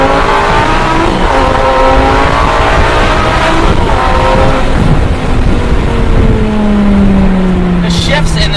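A Lamborghini Gallardo pulls hard in a tall first gear from about 40 mph at night, its engine note climbing steadily and loud inside the cabin, with rising harmonics and a steady roar throughout.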